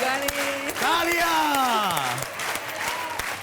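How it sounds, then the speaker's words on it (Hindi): On the 10 Ka Dum game show, a studio audience claps in sharp scattered bursts beneath a prominent sustained voice that dominates the start, the clapping continuing afterward. "तालियां।"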